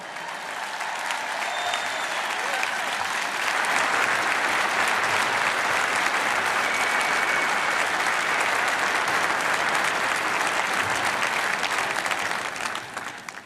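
A large convention audience at AIPAC breaks into sustained applause, building over the first seconds into a broad, even roar of clapping that holds steady and tapers at the very end.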